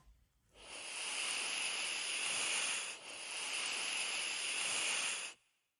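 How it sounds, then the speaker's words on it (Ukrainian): Snake hissing: one long, steady, breathy hiss runs for about five seconds with a brief dip midway, then cuts off. No voices are heard. "змія"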